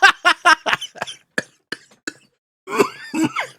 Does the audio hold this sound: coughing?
yes